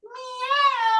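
During a yoga session a person imitates a cat with one drawn-out, rising then falling meow that is close and loud and stands alone.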